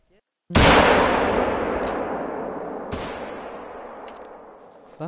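A hunting rifle fires once in theHunter: Call of the Wild, a single loud, sharp crack whose echo rolls away slowly over several seconds, with a faint softer pop near the middle.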